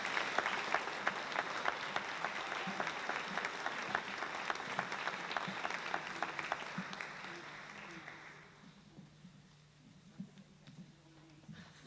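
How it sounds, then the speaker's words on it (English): An audience applauds students at a senior recognition ceremony, with crisp individual claps inside a steady clapping crowd. The applause fades out after about eight seconds, leaving quieter room sound and a few stray claps. "would you please join me in applauding them?"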